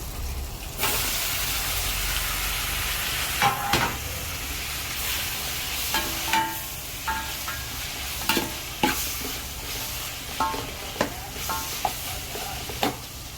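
Tomato, garlic and curry leaves sauté in a pan under a constant sizzle, punctuated by repeated scraping and clanking strokes of a stirring spoon, close and fairly loud.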